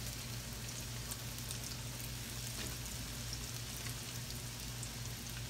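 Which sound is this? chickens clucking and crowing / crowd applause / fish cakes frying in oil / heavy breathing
fish cakes frying in oil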